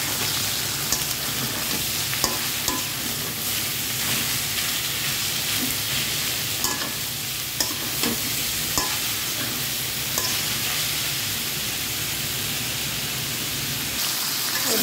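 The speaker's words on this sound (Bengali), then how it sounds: "পেঁয়াজ রসুন একটু ব্রাউন করে নিয়েছি, আর সিদ্ধ করা লাল শাক দিয়ে দিলাম।" Boiled red amaranth greens fry in oil with browned onion and garlic, a continuous close sizzle resembling rain, broken by occasional stirring clicks.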